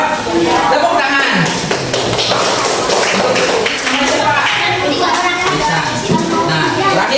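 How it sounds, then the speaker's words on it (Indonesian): A classroom of students breaks into applause, a dense, steady patter of many hands clapping close by, with voices mixed in throughout. "Tepuk tangan."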